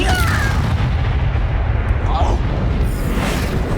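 A Bombarda blast spell goes off in Hogwarts Legacy, a dense, continuous roar of booming, crackling explosion noise that stays loud throughout, with a voice shouting over the chaos.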